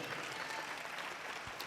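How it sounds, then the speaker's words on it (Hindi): A church congregation applauding during a Hindi sermon, a steady wash of many hands clapping together, fairly faint and continuous throughout. "धन्यवाद करो खुदावंद का ताली बजाकर"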